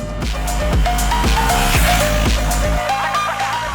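A Triumph Speed T4 motorcycle engine runs steadily at mid revs, a loud continuous engine drone with rhythmic pulsing and gear-change shifts in pitch, with no talk.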